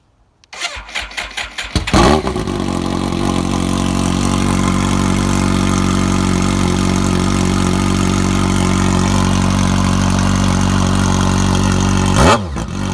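A 2005 BMW K1200S with a Shorty GP exhaust cranks with a few quick starter clicks, fires up and settles into a loud, steady, close idle, then gives a short blip near the end.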